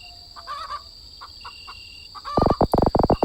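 Soft scattered clucks at first, then a loud burst of rapid rhythmic clucking and squawking from nearby chickens in an indie horror video game, with a steady high electronic tone underneath.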